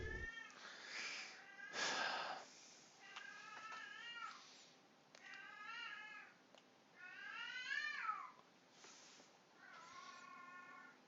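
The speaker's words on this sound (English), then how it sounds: "Oh, be silent, cat." A cat meows repeatedly, several drawn-out, rising and falling calls spaced a second or two apart, fairly close and moderately loud against a quiet background.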